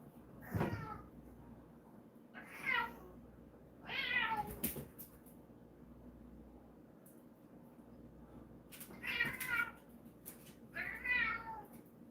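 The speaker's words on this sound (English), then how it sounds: "You guys hear my kitty cat? He's getting mad at Lincoln." A pet cat meows angrily at another cat indoors, giving several separate drawn-out cries spaced a few seconds apart, fairly close and clear over a low background hum with no talking.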